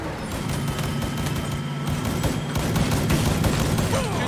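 Gunfire in the Mafia 3 video game, as dense, continuous bursts of rapid shots and booms that stay loud and close throughout.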